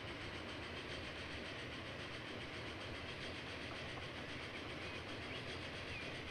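A Transport Fever 2 train in a video game strains up an incline, its steady rolling rumble and faint clickety-clack of wheels on track running continuously at moderate level with no talk.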